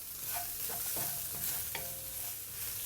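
Szechuan peppercorns and chili frying in a pot of hot oil, a steady crackling sizzle with scraping stirs from a utensil, close and moderate in level.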